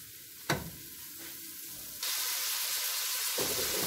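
Duck liver and gizzard pieces sizzle and hiss in a hot pan as they are stirred, with a sharp clink of the utensil early on and a louder, steady burst of frying that lasts to the end.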